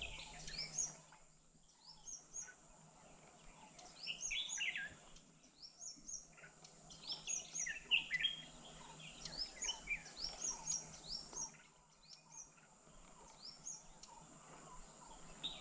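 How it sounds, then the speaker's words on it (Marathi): Various wild birds call and chirp through a quiet morning beside a Konkan coastal creek, many overlapping high tweets and short calls at moderate distance, with faint insect buzz beneath and no talk. "बॅकग्राऊंडला पक्षी किती ओरडत आहेत बघा."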